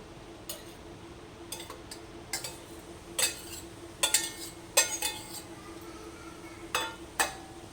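Boiled chicken pieces are moved into a mixer jar, giving a quiet scatter of light clinks and taps, spaced irregularly against a faint background hum.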